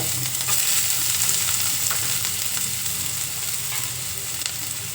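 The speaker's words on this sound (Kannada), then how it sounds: "ಆಲ್ರೆಡಿ ನಾನು ಎಣ್ಣೆ ಸ್ವಲ್ಪ ಕಾಯಕ್ಕೆ ಹಾಕಿದ್ದೀನಿ ಈಗ ನಾನು ಈರುಳ್ಳಿ ಮತ್ತು ಬೆಳ್ಳುಳ್ಳಿನ ಉರ್ಕಳನ್ನು" Chopped onion and garlic sizzle in hot oil in a pan, a steady close hiss with faint stirring scrapes and no talking.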